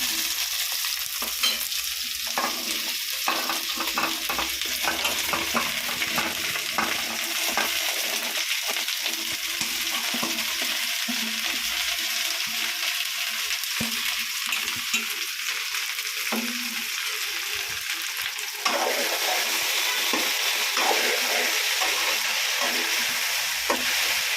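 Okra tossed into a pan of softened onions fries with a steady, close sizzle for a home-style okra poriyal, with occasional scrapes and clinks of stirring; the hiss brightens slightly partway through.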